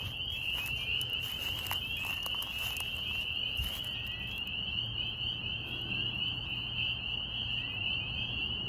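Frogs call steadily in a dense nighttime chorus, a continuous high trilling of spring peepers with scattered lower croaks from another frog species, no voices.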